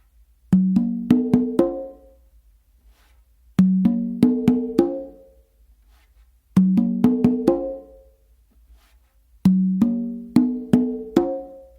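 Four congas play a melodic tumbao pattern, four bursts of slaps and open tones separated by short silences, close and crisp.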